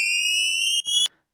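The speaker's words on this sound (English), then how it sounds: "So this is a kettle" A whistling kettle sampled into an electronic breakdown track, a loud steady high-pitched whistle with stacked harmonics that holds, breaks briefly, then cuts off sharply into silence.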